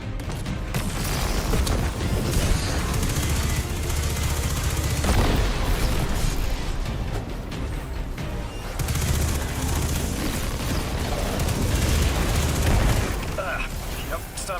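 Continuous heavy gunfire and booming blasts from the Destiny 2 video game rumble steadily throughout, with dense overlapping shots and low explosions, while people talk over the action.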